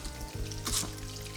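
Chunks of chorizo sizzle and crackle steadily in a hot frying pan, a close, continuous spitting hiss with a brief louder flare.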